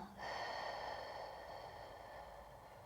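A single deep, slow breath is taken during a lower back stretch, an airy inhale that starts abruptly and trails off softly, close and quiet with no talk.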